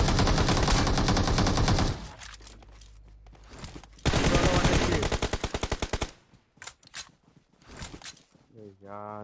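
Gunfire in the video game BGMI, long loud automatic bursts with a pause between, then a stuttering run of single shots that trails into quieter clicks, under excited shouting.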